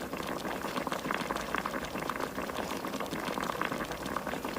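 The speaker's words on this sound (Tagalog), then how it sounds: "hayaan lang natin siyang kumatas at magmamantika" Chicken pieces simmer in a pot for tinola with coconut milk, rendering their fat, giving a steady, close, continuous bubbling and sizzling hiss throughout with no talking.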